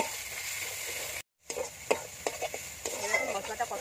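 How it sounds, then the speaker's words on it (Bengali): Masala sizzles in oil with desi chicken, tomato and chilli powder, a soft frying hiss broken by scraping stirs and light utensil taps after a brief silent gap, close and fairly quiet. "ভালো করে এটা কষিয়ে নেব।"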